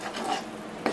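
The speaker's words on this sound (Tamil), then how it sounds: "இதை நல்லா கலந்து விட்டுக்கலாம்" Idli manchurian mixture with tomato paste gets stirred in a pan, a close, continuous scraping and swishing of a spoon against the pan over a faint sizzle, with a sharper scrape near the end.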